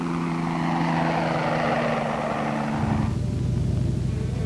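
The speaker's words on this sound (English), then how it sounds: "The low and fairly slow-flying helicopter can put the spray where it is needed in a hurry" Low, fairly slow-flying crop-dusting helicopter, a loud continuous engine and rotor drone with a shift in pitch and texture partway through, heard alone with no voices.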